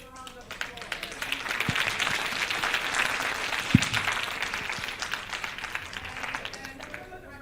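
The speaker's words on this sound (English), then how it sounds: "Let's first of all give a continuing round of applause." An audience at a conference session gives a continuing round of applause, a steady wash of many hands clapping at moderate level with a few sharper knocks standing out.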